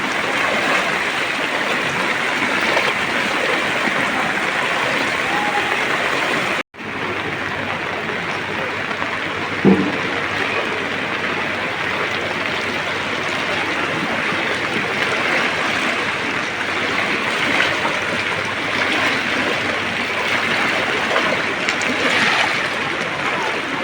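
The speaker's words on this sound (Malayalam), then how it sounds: "ഇതിൻ്റെ പാലം മുകളിൽ കവിഞ്ഞിട്ടാണ് വെള്ളം ഒഴിക്കുന്നത്" Floodwater pours over the top of a bridge in Kondotty, Malappuram, a loud, constant rushing roar heard nearby, with one sharp break in the sound partway through.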